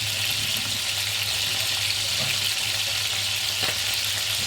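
Duck meat browns in a hot pan for cassoulet, giving a steady, close sizzle and crackle of frying fat that runs unbroken throughout, with no voices.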